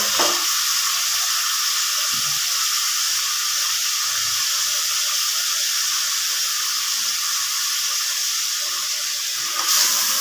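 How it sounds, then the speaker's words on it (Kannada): Half a kilo of chicken sizzles steadily in hot oil, a loud, continuous frying hiss that runs unbroken for the whole stretch, with a few soft stirring knocks near the start and no talking. "ಸ್ವಲ್ಪ ಹೊತ್ತು ಚಿಕನ್ ಫ್ರೈ ಆಗಬೇಕು"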